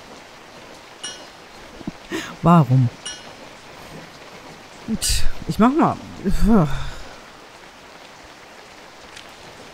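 Steady rain falls in the video game Fran Bow, a soft continuous patter running throughout beneath a German-speaking voice that talks in short bursts.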